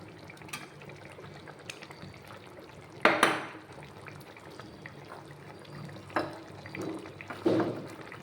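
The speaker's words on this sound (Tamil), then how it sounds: "சாம்பாருக்கு புளி கரைச்சி ஊற்றிக்கலாம்." Dissolved tamarind water poured into a pot of coconut-free sambar with dal and chilli powder, a few soft splashes and sloshes with light clinks of a vessel in a quiet kitchen.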